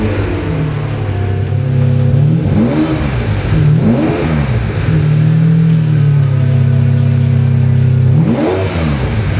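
A 1998 Ferrari 550 Maranello V12 revs up loudly and close by, several sharp rising blips climbing and falling back between a steady, throaty idle, with no voices over it.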